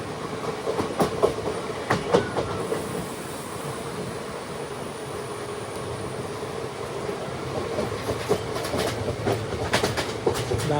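A passenger train runs on rails between Nilambur and Shoranur, a steady loud rumble of wheels and carriages with rhythmic clickety-clack bursts recurring through the ride, no voices over it.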